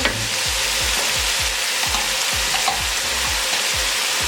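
Chicken sizzling loudly in a hot pan while being stir-fried for hakka noodles, a constant bright crackle with regular rhythmic scrapes of the spatula roughly twice a second, close and continuous.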